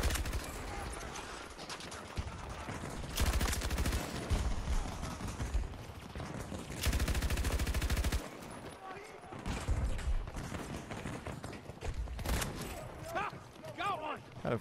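Bursts of light machine gun fire from an upgraded RPT-31 LMG in the Battlefield 2042 video game, several sustained volleys at a moderate rate with gaps in between, loud and close under someone talking.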